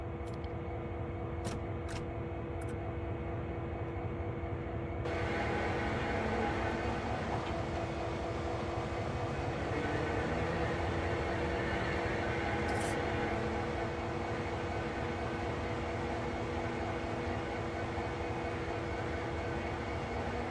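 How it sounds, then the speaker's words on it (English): A locomotive sitting on a rotating turntable in the Train Simulator World video game, CSX Heavy Haul, gives a continuous loud diesel drone with steady mechanical hum that thickens after a few seconds, with a couple of faint clicks early on. "turn the table and locomotive to the indicated track"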